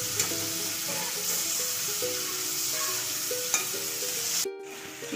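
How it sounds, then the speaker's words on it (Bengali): Prawns fry in a covered pan, giving a steady, close sizzle with faint stirring scrapes throughout and a brief louder clatter near the end. "চিংড়ি মাছগুলো ভাজা হয়ে গেছে।"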